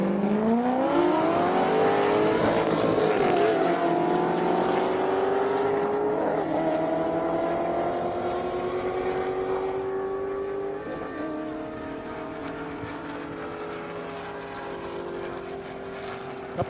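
A Lamborghini Huracan and a Corvette Z06 race down an airstrip, their engines wailing loudly with rising pitches that dip and climb again at each gear shift, then fade gradually as the cars pull away into the distance.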